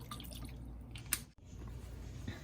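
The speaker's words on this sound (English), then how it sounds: "a couple splashes of the Worcestershire sauce" A couple of quick liquid splashes of Worcestershire sauce hit a crab rangoon filling mixture. A brief close drip stands out against quiet kitchen background, with no talking.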